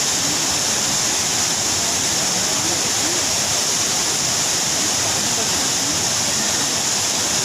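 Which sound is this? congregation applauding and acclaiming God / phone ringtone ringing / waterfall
waterfall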